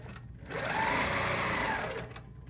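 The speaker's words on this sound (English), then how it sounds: "And stitch over." A sewing machine stitches quilt lines in one short close burst, its motor whirring up from quiet, running steadily for about a second and a half, then stopping.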